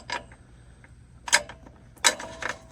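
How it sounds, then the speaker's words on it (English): A bolt being worked back out during an alternator swap on a 1984 Ford Bronco, heard as close, clustered ratcheting metal clicks in three short bursts over a quiet background. "So we're gonna take this bolt back out,"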